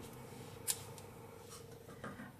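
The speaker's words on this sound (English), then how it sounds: "Then we cut the yarn." A single quiet snip of scissors cutting crochet yarn, very close against a faint room hum, followed by a softer rustle.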